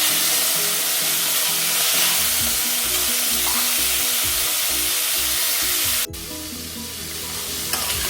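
Ground koorkan tuber paste hits hot oil in a pan while cooking sambar. A loud, steady sizzle of frying runs throughout, with stirring scrapes, then briefly drops and resumes.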